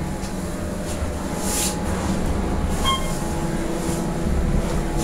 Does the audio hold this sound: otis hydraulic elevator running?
yes